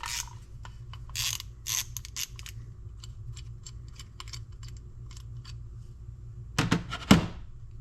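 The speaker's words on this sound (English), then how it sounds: "That's going to require a 1/2 inch drive socket." A ratchet with a 1/2 inch drive socket works loose the carburetor drain on an Oliver 60 tractor, sharp clicking bursts spread across the clip with a louder clatter near the end, heard alone.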